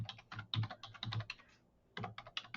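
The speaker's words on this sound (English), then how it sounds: "you'll type in ANC library" Keys on a computer keyboard clatter in quick, close bursts of typing, with a short pause in the middle before the tapping resumes.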